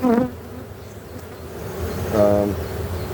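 Agitated honeybee foragers buzz in a hive, a steady droning hum with a louder swell of wingbeat whine near the start and again toward the end.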